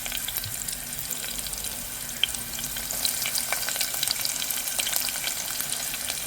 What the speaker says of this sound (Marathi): आता हा छान असा कांदा मी परतून घेईन.